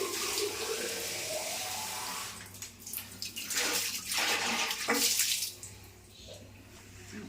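Tap water runs steadily into a small pot meant for a fish tank, a broad rushing splash that swells and dips in loudness, close by with no talk.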